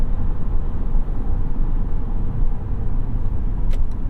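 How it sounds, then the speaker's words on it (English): A 2021 Mercedes-Benz GLC300 4MATIC pulls hard out of a corner as its transmission kicks down, the engine and road noise forming a loud, steady broadband drone from inside the cabin with no voices. "See how it kicks down out of this corner. It is downshifting slightly more aggressively here"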